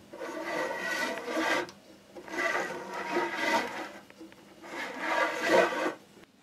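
Foma R100 movie film is wound onto a developing tank spiral reel, making close, soft scraping and ratcheting rasps in three separate bursts with short quiet gaps between them.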